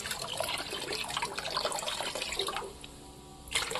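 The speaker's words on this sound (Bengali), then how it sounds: "আর এই জলটা আমি চারিদিকে ছড়িয়ে দিই হালকা করে।" Water lightly sprinkled over a betta fighter fish tank to lower the pH, a steady close splashing and trickling wash that drops away briefly before a final splash.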